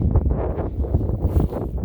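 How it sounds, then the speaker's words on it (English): Loud, low wind buffets the microphone in a steady roar with gusty swells and no speech. "it's super windy"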